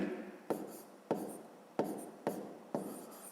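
A math equation being written by hand on paper for a fifth-grade exercise: five quiet, evenly spaced pen strokes, each a short scratching sweep, close up and without talk.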